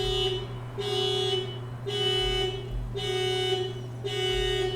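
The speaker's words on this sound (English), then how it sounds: "Wow, that like car alarm, really, really inopportune." A car alarm going off nearby, loud and steady, cycling through a repeating tone pattern roughly every second with a constant low hum beneath.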